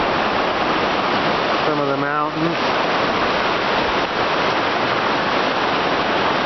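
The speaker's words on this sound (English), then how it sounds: "There's the river." Flowing river with big rocks and boulders, a loud, close, constant rush of water that fills the whole clip, with someone speaking briefly over it.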